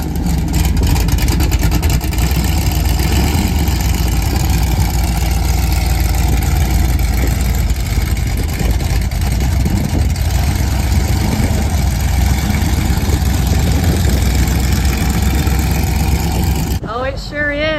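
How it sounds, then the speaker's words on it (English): An old Chevrolet delivery wagon idles at the Cruisin the Coast car show in Biloxi, Mississippi, a steady, close, low engine rumble lasting throughout with faint voices in the background. "An old Chevrolet delivery wagon."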